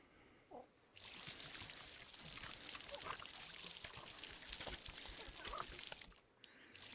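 Water pours steadily in the VR garden game Garden of the Sea, a continuous splashing stream running for about five seconds between short quiet gaps, with no talk over it.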